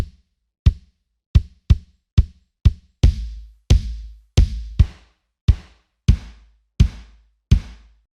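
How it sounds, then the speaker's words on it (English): Kick drum samples recorded outdoors: a dozen punchy, deep thumps struck one at a time with short gaps, some tight and some with a longer ringing tail, loud and close with no talking. "Here's the kick drum."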